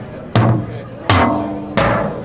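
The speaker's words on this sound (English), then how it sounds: "I have to play with my heads tuned all the way down so they sound like this." Three loud, boomy drum hits with heads tuned all the way down, each a heavy thud ringing out with a low, slack decay, spaced evenly and played alone.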